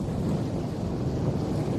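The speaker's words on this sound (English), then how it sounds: "Hallie, the winds really picked up over the last few hours or so" Intense winter storm wind during a blizzard roars continuously, buffeting the microphone with a loud, broad rush and gusty surges.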